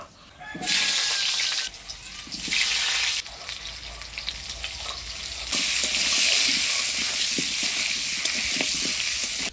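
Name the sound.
potatoes frying in a pan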